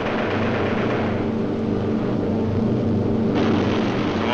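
B-17 Flying Fortress bomber in wartime flight, its piston engines giving a steady, loud propeller drone that brightens slightly near the end, with no voices.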